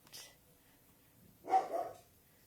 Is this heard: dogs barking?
yes